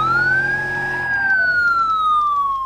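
A police siren in BeamNG.drive with a police mod, one loud, clear electronic wail that rises and then slowly falls in pitch, with no other sounds around it.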